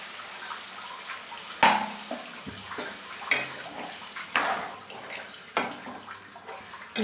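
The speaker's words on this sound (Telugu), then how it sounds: "దీంట్లోకి 1 గ్లాసున్నర నీళ్ళు వేసేద్దాం." Water is poured into a pot of Rayalaseema-style country chicken curry in short splashing bursts, with a few light clinks of the pot and quiet gaps between pours.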